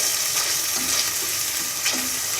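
Chana daal with fried onions being sautéed in a pan, giving a continuous soft sizzle broken by a few scraping stirs of the spoon, fairly close and with no voices.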